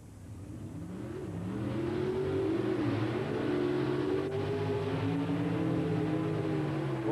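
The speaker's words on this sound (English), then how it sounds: "every drag racing fan instantly recognizes that car, the Ford Thunderbird of Bob Glidden" A Ford Thunderbird Pro Stock drag car of Bob Glidden at an NHRA Southern Nationals event, its engine droning steadily at high revs after swelling up, heard from some distance with rising and falling harmonic tones.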